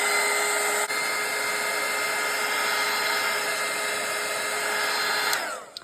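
A hair dryer blows steadily and loudly over a wet watercolour meadow landscape painting, a constant close whirring roar that holds for several seconds before switching off and winding down at the end.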